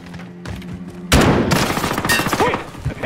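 A Dragon's Breath VLK shotgun in the video game Call of Duty Cold War erupts in a loud burst of blasts and rapid fire about a second in, with gunfire continuing while voices shout nearby.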